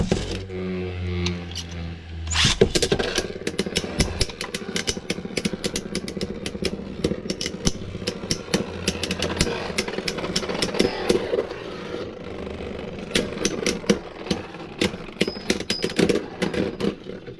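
Beyblade Burst spinning tops launched into a plastic stadium, a sharp launch rip followed by a continuous whirring hum with rapid clicking and clattering collisions throughout, close and busy.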